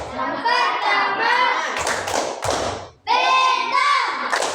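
Children doing the tepuk Pancasila clapping game in a classroom lesson, loud rhythmic claps and thumps mixed with chanting children's voices, a brief pause, then clapping and voices resume.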